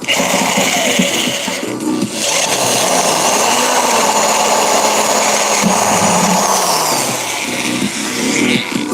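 A power drill with a slightly loose bit whines steadily at high speed for several seconds, loud and close, with slight dips in its pitch.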